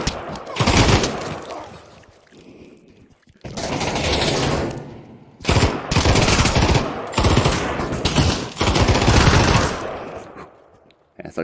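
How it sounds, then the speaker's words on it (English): Heavy gun in the Pavlov VR team deathmatch game firing long, loud automatic bursts, separated by short silent gaps between volleys. "Man, this gun is loud."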